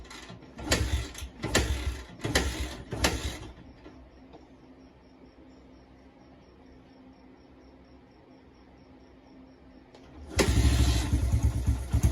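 A Honda XR80R motorcycle engine runs close by: loud revving bursts at the start, then a steady low idle for several seconds, before it revs hard again at the end.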